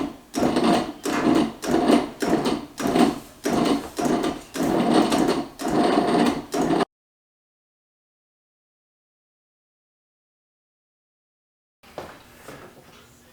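A Cuisinart food processor pulsing dough for buttermilk biscuits, seven loud rhythmic whirring bursts close by, then a long silence and a brief quieter stretch at the end.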